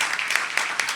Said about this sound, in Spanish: Les pido para empezar un aplauso para las protagonistas de esta historia